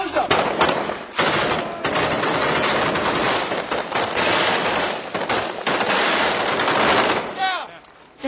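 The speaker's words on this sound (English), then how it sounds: "The heavy fire keeps the insurgents' heads down." Heavy automatic gunfire during combat in the Iraq war, loud sustained bursts of rapid shots filling nearly the whole stretch with only brief pauses, voices faintly mixed in.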